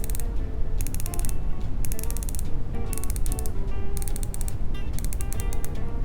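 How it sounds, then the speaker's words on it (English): Quick, crisp ratcheting clicks in bursts as the bezel of a San Martin 6105 Turtle homage dive watch is turned, close up and repeated several times with short pauses between. "Do you hear that the bezel really clicks like a premium watch?"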